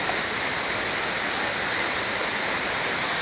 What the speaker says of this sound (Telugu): పెద్ద వాటర్ ఫాల్స్ ఉంటుంది